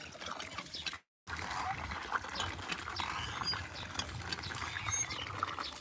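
A hand-operated water pump (poso) yields salty water, and it gushes and splashes in a steady rushing flow mixed with faint creaks of the pump mechanism, constant at low level after a brief gap near the start.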